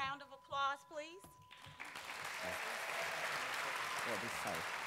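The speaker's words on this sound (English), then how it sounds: "One more round of applause, please." An audience applauds at an evening talk in a hall, a broad, steady wash of clapping that rises after a few brief spoken words at the start and continues evenly to the end.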